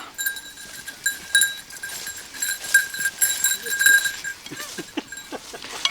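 Goats on a farm, with a faint bleat or two under a busy outdoor scene where people talk and call to the animals and a high tone rings steadily in the background.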